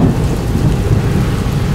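A heavy thunderstorm with hail as a steady, loud roar of rain and rumble with no breaks.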